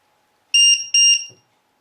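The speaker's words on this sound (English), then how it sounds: "it's worth investing, regardless anyway, into a low voltage battery alarm" A low voltage LiPo battery alarm gives two short, shrill electronic beeps in quick succession, loud and close, followed by a faint click.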